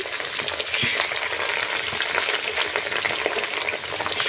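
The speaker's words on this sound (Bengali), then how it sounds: "আজকে মাছ ভাজতেছি দেখো অনেকটা তেল দিয়েছি" Fish fries in a generous amount of hot oil, a dense, steady sizzle and spatter close to the pan, loud and unbroken with no talk.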